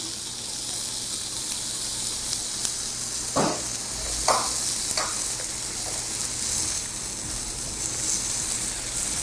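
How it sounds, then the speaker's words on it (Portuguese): Banana peel fries in a pan with a steady, bright sizzle throughout, broken by a few short scraping stirs near the middle. "Vamos acrescentar então a casca de banana."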